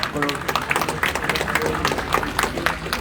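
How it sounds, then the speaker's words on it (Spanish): Applause from a crowd at a meeting of Peruvian ronderos with Pedro Francke, dense and steady clapping mixed with voices and background chatter throughout. "vamos a darle un fuerte aplauso a Pedro"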